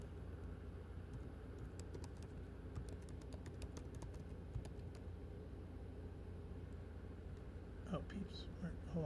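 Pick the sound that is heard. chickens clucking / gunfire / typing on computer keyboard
typing on computer keyboard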